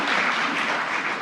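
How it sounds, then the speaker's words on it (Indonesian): An audience at a PDI Perjuangan political commemoration event applauds, a dense, loud, even roar of clapping that fills the short moment without pause. "Tepuk tangan yang meriah buat beliau."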